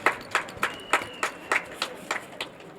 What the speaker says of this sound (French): Je voudrais que tout le monde l'applaudisse très fort.